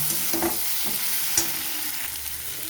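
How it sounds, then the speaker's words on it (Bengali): Green chilli and garlic paste sautés in a pan for a fish curry with kalonji, a close soft sizzle running steadily under a few gentle spatula strokes, with no talk. "এবারে কাঁচা লঙ্কার রসুন বাটাটাকেও খুব ভালো করে কষে নেব।"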